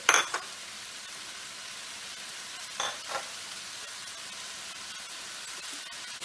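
Peppers stir-frying on high heat in a non-stick pan, a soft steady sizzle broken by a few brief scraping stirs and light pan clatters, no talk.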